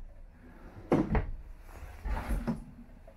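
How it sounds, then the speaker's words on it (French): Large storage drawers in a 2021 Jayco Melbourne Prestige 24RP motorhome sliding and thumping shut, two clusters of soft knocks and rumbles close by over quiet room tone. "au niveau des tiroirs de rangement, on en a 6 grands."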